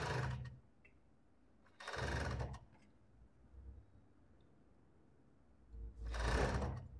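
Sewing machine stitching fabric for a long-sleeve robe, running in three short bursts separated by quiet pauses, close and moderately loud with no talking.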